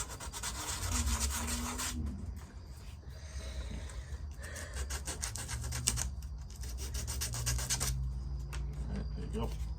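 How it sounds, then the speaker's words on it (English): Rough, continuous rubbing of sandpaper over puppet mouth plates, their edges roughened for grip, running steadily in close bursts with brief pauses; a low voice murmurs faintly beneath. "Now these mouth plates are all sanded"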